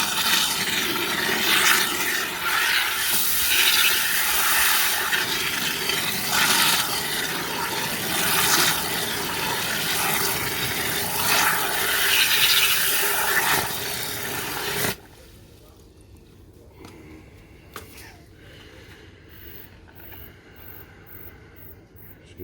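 Liquid is squirted and stirred in a container during gold recovery from IC chips, making a loud, continuous rushing, sloshing wash for about fifteen seconds before it drops to a quiet background with a few faint clinks.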